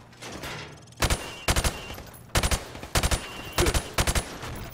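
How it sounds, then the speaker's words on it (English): Bursts of gunfire fired through plywood in Call of Duty: Modern Warfare, arriving as four rapid automatic volleys separated by short pauses, loud and close. "I want you to shoot the targets through the wood."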